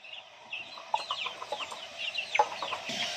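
Rhode Island Red chickens cluck in a flock, with repeated short calls and a few sharper squawks rising over a steady barnyard murmur, fairly close and moderately loud.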